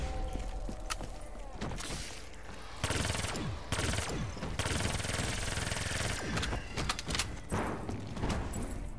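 Rapid gunfire from Black Ops 3 zombies high-round play, dense bursts and volleys crackling loudly and nearly continuously, with a voice talking at moments beneath the shooting.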